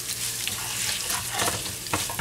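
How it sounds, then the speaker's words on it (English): Ginger, green chilies and curry leaves crackle and sizzle softly in a pan on a switched-off stove, a steady close frying hiss with small popping bursts and a light stirring scrape near the end. "Now I'm going to fry this here on the pan with no heat."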